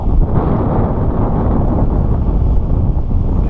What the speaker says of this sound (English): this wind just started out 5 to 10. Now it's like 20, 25. Some of these gusts just suck.